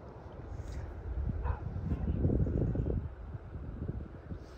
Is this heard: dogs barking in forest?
yes